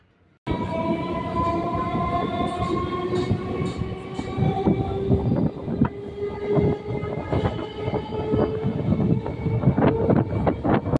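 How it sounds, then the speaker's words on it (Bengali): A local train leaving Bahira Kalibari station on the Barasat–Hasnabad line rumbles and clatters steadily along the rails, loud and close, with rhythmic clicking of wheels over joints for the full length. "ট্রেন এখন বহিরা কালীবাড়ি স্টেশন ছেড়ে বেরিয়ে যাচ্ছে"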